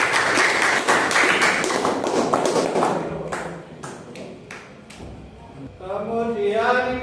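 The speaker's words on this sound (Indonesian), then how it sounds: "Beri tepuk tangan untuk kelompok 2." Classroom applause for a student group, dense clapping from many hands that fades out partway through, followed by a voice speaking at the end.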